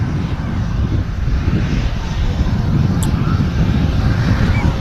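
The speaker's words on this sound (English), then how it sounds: "Look at this bizjet that's just pulled in, folks." A business jet taxiing at Manchester Airport gives off a loud, steady rumble of engine noise that holds unbroken throughout, with a slight roughness of wind across the microphone.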